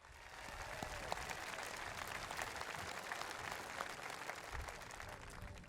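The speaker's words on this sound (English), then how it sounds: "how about one more round of applause to recognize all of our students graduating with honors today" Sustained applause from a high school commencement audience honoring graduating honors students, a dense, steady wash of clapping at moderate distance, with no talk over it.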